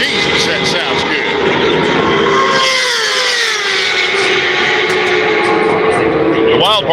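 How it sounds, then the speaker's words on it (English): Racing motorcycles at the Daytona 200, Kawasaki, Suzuki and Yamaha machines, scream past in a loud continuous engine roar with shifting pitch as bikes pass, while someone talks over the noise. "you can tell by the pitch of the motor between the Kawasaki's and the Suzuki's and the Yamahas"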